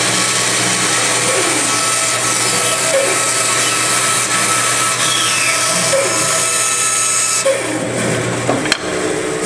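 A band saw cutting wood gives a loud, continuous whining buzz that holds steady throughout, with faint shifts as the blade works the piece and a brief knock near the end.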